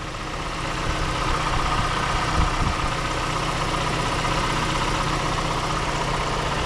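The 2.4-liter turbo engine of a 2024 Toyota Grand Highlander XLE idles under the open hood with a steady, even low hum and no change in pitch.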